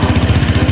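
A small engine, started with its electric starter, runs at a steady idle with a rhythmic low pulsing chug, close and fairly loud, with no voices.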